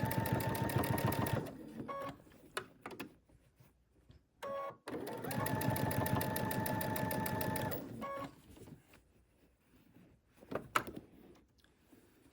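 A sewing machine stitching binding onto a quilted tree skirt, running in two long, steady bursts of rapid mechanical stitching, separated by short pauses and the clicks of fabric being adjusted.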